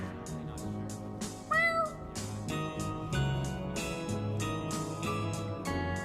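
A cat meows briefly at moderate loudness, a rising and falling call heard once amid a busy comedy sketch with music and other sound around it.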